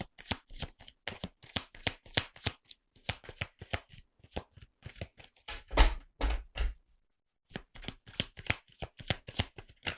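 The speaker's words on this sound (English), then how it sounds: "I'm going to pull one more card for them on this one." Tarot cards are shuffled and pulled in a steady run of crisp riffling flicks and snaps, close and fairly loud, with a few heavier thumps near the middle, a brief pause, then more quick card flicks.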